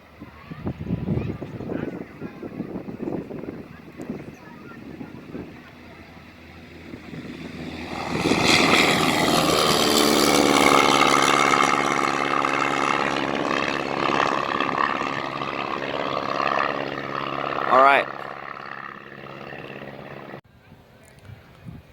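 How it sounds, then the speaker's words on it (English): A propeller airplane takes off at a plane-spotting session, its engine swelling from a distant hum to a loud, sustained roar that holds for about twelve seconds before cutting away, with people talking quietly before it builds. "Alright, now we got the 4th plane taking off."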